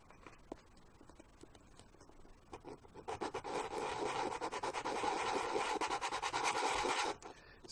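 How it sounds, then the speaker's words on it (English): Close, steady rasping of sandpaper scraping back and forth across a joystick part, starting with a few light strokes and building into continuous rapid rubbing. "So try and keep it flat when you're sanding."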